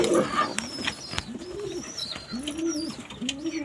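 Pakistani pigeons kept as pairs in a loft give repeated soft, throaty coos in a rolling rhythm close by, with faint chirps and rustling around them.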